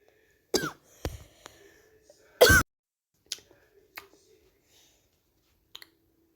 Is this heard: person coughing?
yes